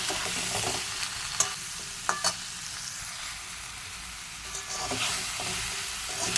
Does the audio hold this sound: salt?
yes